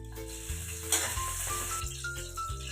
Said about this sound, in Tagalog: Maglagay tayo ng mantika. Gisa natin ng luya muna.